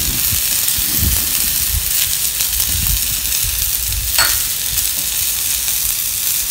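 Curry leaves spit and sizzle in hot oil for a spicy coconut chutney, a bright continuous frying hiss with a few louder crackling bursts and occasional stirring.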